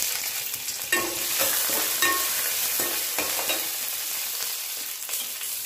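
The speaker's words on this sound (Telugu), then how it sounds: "ఇప్పుడు కరివేపాకు, 4 పచ్చిమిర్చి కట్ చేసుకొని ఇందులో వేసుకోవాలి." Curry leaves and chopped green chillies crackle and sizzle in hot oil for mint rice, with a steady frying hiss broken by stirring scrapes and small pops, close and fairly loud, no talking.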